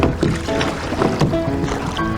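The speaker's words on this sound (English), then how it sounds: "Rowing, rowing, rowing." Oars pull a rowboat across a lake in the Okanagan, with close, rhythmic splashes and creaks repeating over breezy open-air noise.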